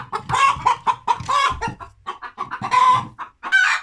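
A hen clucks up close in a steady run of short, nasal calls, rising into a couple of louder drawn-out squawks, with no one speaking.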